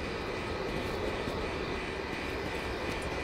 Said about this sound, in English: The plane's gaining altitude.